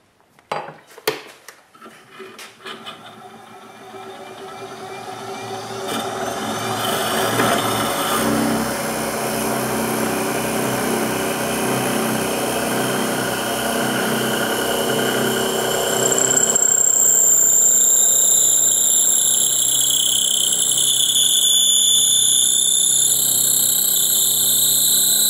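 A lathe-mounted drill bores into a chucked wand blank to make room for the core, starting with a few clunks, then a steady whirring grind that builds and shifts to a higher, whining tone later on, loud and close.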